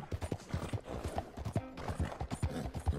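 Horse hooves clip-clop in a steady galloping rhythm while riding in Red Dead Redemption 2, loud and close, with occasional faint snorts and no talking.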